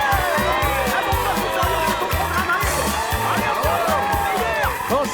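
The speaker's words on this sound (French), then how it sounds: "merci beaucoup pour cette salve d'applaudissements" A studio audience in a TV comedy show set cheers and claps steadily for a comedian, a dense continuous roar of applause with whoops, while a low rhythmic music bed pulses underneath throughout.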